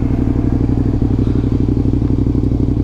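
A Suzuki SV650 motorcycle engine idles steadily up close, a deep rhythmic low-pitched chug with a faint clattery edge throughout.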